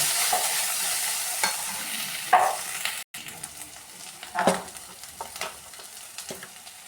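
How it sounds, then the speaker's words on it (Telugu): Salt, turmeric and chili powder being stirred in a frying pan, with a few scraping strokes and light sizzling that rise and fall across the clip, heard alone with no voices. "ఉప్పు టేస్ట్ సరిపడా, పసుపు టేస్ట్ సరిపడా, కారం వేసి మంచిగా మిక్స్ చేసేసుకొని"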